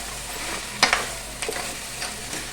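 Ginger paste mixture is stirred in a frying pan over a steady sizzle, with a few sharp scraping knocks of the spoon, close and moderately loud.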